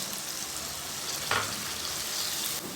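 Masala of tomato, turmeric, salt, red chilli and half a cup of water frying in a pan, a steady dense sizzle held close and even throughout with no voices.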